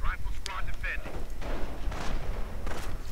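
In a World War II strategy video game, a mine blast and rifle fire crack and rumble in quick succession while a commentator talks excitedly over the battle.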